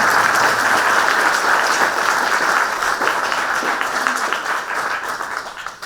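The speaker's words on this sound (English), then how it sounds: "We should clap for Stephanie." Audience applause for Stephanie, an artist in the exhibition, at a museum opening celebration; a steady, dense crowd clapping that stays loud for about six seconds and eases slightly toward the end.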